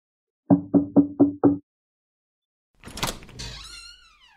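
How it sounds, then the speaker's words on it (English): Five quick, evenly spaced knocks on a door, close and crisp, followed after a pause by a door opening with a rush of movement and a brief squeak. "Let's go knock on her door."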